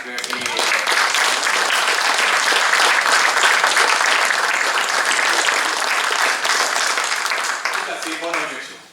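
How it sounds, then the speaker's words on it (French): Sustained applause from a crowd at a town council meeting fills the room, steady and loud, tapering off at the very end. "donc je pense qu'on peut l'applaudir, Paul Bozac."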